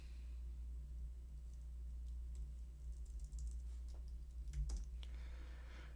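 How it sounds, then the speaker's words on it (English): Typing on a computer keyboard during a Java programming lecture, scattered key clicks of uneven rhythm over a steady low hum, with a few louder keystrokes near the end. "I'm typing here."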